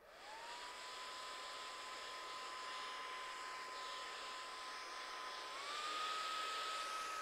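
A hair dryer blows continuously close by, a steady whooshing whine that spins up at the start and shifts to a slightly higher pitch near the end, running alone without talk.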